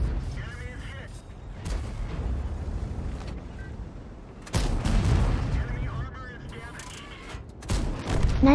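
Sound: 105mm tank guns firing rapid volley, World of Tanks video game

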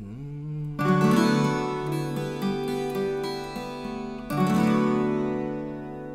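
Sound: viola caipira playing

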